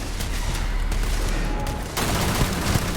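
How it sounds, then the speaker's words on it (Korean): Sustained gunfire in the video game Starfield: a dense, loud, continuous burst of rapid shots with a brief dip in the middle before the volley resumes. "총 쏘는 거 왜 이렇게 웃기지?"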